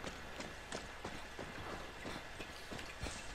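Horse in the video game Far Cry 6 walking, with a soft, regular clip-clop of hooves, faint and steady, with no voices.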